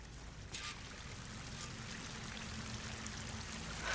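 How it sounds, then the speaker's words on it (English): A waterfall in the game Horizon Forbidden West gives a steady, broad rushing wash of water that holds evenly throughout with no voices, sounding moderately distant. "That waterfall must be coming from somewhere."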